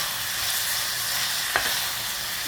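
Dried fish frying in a pan sizzles in a steady hiss, with a brief clink of the stirring utensil partway through, close and moderately loud, with no voices.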